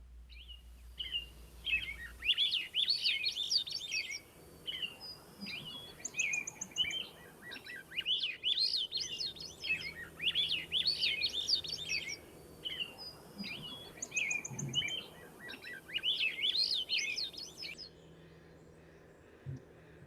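Several birds sing in an urban forest in repeated bright, warbling phrases against a quiet background, with short pauses between songs and faint chirps in between.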